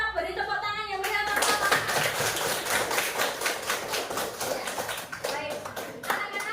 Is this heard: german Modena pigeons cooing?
no